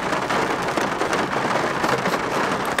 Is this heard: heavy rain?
yes